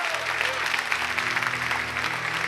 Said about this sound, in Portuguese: Então é o último aplauso para a gente ir embora.